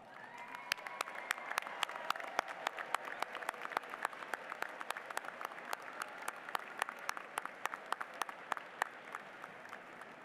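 An audience at a District 7 graduation commencement in Dearborn Heights applauds standing alumni, with many sharp, distinct hand claps building into steady, moderately loud applause that lasts about ten seconds.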